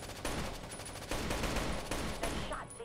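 Repeated bursts of automatic gunfire in the tactical shooter Rainbow Six: Shadow Vanguard, loud and close, coming in three or four rapid volleys with brief gaps between them.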